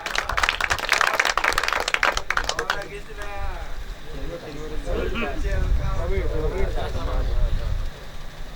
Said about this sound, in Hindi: मैं चाहता हूं एक बार फिर से सदन ताली बजाए।